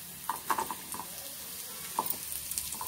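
Small onions sautéing in a pan for garlic chutney, stirred with a spoon: a low, steady sizzle with a few light scrapes and taps clustered early and again near the end, close and fairly quiet.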